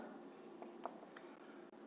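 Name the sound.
writing with chalk or pen on a board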